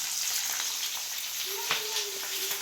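Green chillies roast in oil in an iron kadhai, a constant close sizzle with a faint scrape and clink of stirring near the end, no talking.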